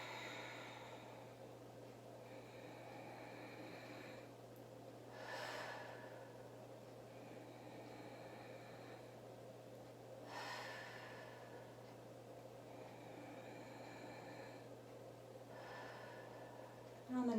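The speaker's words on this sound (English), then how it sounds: "Nice deep breathing." Slow, deep breaths held in a standing yoga pose, with soft airy exhales returning at long, even intervals over a faint constant hum, quiet and close, with no talking.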